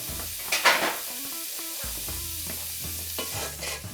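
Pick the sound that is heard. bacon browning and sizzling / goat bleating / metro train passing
bacon browning and sizzling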